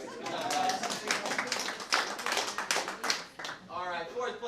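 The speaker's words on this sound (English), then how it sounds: "We'll clap for you anyway." Audience clapping for award-winning real estate teams at a monthly and quarterly awards event, many hands clapping in a lively, uneven burst that briefly dips and then resumes, with voices mixed in.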